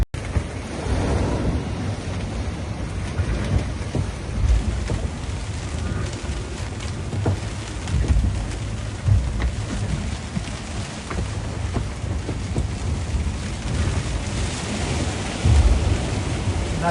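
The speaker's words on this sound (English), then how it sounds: "There's a rain shower coming." A rain shower sweeps over a racing sailboat at sea, a steady broadband hiss of rain and wind with rushing water and low rumbling, continuous and enveloping from start to finish.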